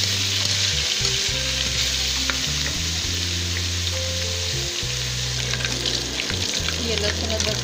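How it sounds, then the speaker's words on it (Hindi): Garlic and ginger fry in hot oil for a red lentil (masoor dal) tarka, giving a steady, close sizzle with occasional stirring and a low hum running underneath throughout. "ये लहसुन अदरक फ्राई हो गया।"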